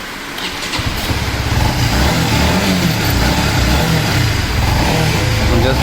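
A Honda CBR 150R Repsol motorcycle engine runs close by, starting low and climbing into a loud, sustained rev with a steady buzzing drone and a faint mechanical rattle, no talking.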